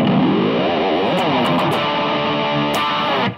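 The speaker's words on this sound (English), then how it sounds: "Let's get a distortion pedal here." A Cort G300 PRO electric guitar on its bridge pickup plays through a distortion pedal, loud bent and sliding notes ringing into a sustained crunchy tone with a few pick scrapes, no talking.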